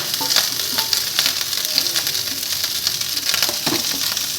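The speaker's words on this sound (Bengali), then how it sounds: "চটর পটর চটর পটর হচ্ছে" Rice frying in a pan for a homemade veg biryani gives a loud, steady sizzle with dense crackling pops throughout and a few stirring scrapes, with no talking over it.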